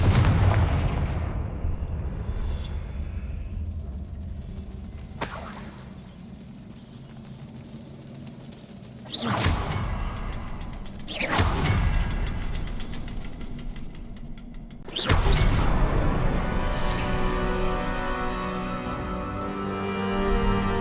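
Confringo fire spells explode in the video game Hogwarts Legacy: three loud, sharp blasts with rumbling tails over a low ambient drone, the last leaving a lingering crackle.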